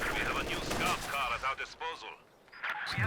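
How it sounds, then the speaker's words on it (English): Sniper gunfire and battle noise from a Company of Heroes 2 four-versus-four match crack in quick bursts, mixed with distant blasts, while a commentator talks over it. "Sniper getting to work over there."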